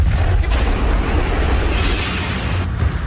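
A demolition blast on a tower produces a loud, sustained roaring explosion with rumbling, crackling bursts that continue for about three seconds, with no voices.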